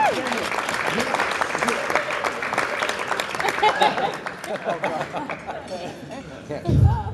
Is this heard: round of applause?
yes